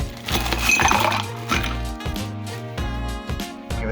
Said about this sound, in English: Fill your glass with ice.